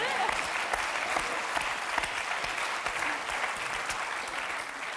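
Studio audience on a French TV game show applauding a contestant, a steady, even wash of many hands clapping at once, sustained and fairly loud throughout.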